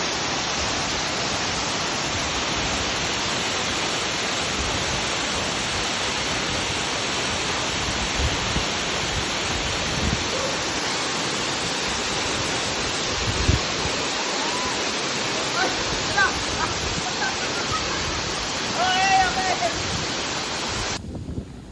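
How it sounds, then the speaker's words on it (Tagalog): Broad steady roar of a waterfall, the second falls visited on a birthday outing, filling the whole clip at close range with a few faint voices and brief knocks underneath. "Mag-ari na kami gani sa waterfalls to. Pangaduwa nga waterfalls."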